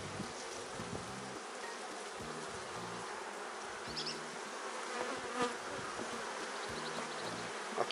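A honey bee swarm buzzes during a hive capture: a dense, steady hum of many wings fills the whole stretch, close and constant, with no voices over it.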